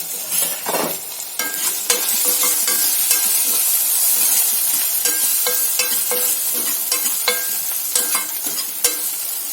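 A bitter gourd curry is stirred in a pan over sizzling heat, with repeated scraping strokes and light clinks of a spoon against the pan, close and steady, with no talking.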